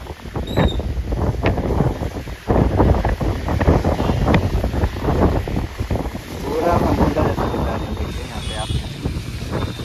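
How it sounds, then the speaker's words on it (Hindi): Strong wind roars and buffets the microphone continuously, with floodwater sloshing nearby at the Varanasi ghats and a voice speaking intermittently beneath the gusts. "इतना तेज़ हवा चल रहा है"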